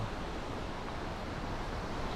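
Sea waves wash continuously onto Patong Beach in Phuket with wind buffeting the microphone, producing a steady, full roar of surf without voices.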